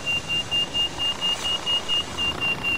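A steady electronic pitido in Far Cry 4, short evenly spaced beeps repeating rapidly and loudly, about four per second, alone without talk.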